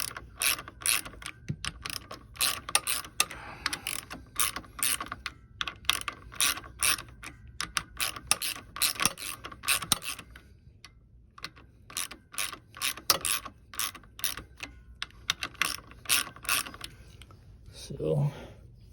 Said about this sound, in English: So now I need to tighten everything up.